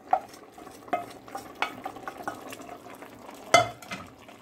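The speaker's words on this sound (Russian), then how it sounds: "Добавляем сюда зажарку." Sautéed vegetables are stirred into boiled frozen green beans in a pot, giving soft scraping stirs with a few sharper utensil knocks against the pan and a light sizzle underneath, close and moderately loud.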